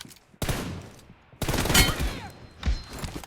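Bursts of gunfire in the mobile battle royale game PUBG Mobile, loud and sharp, coming in two or three separate volleys with short quiet gaps between them.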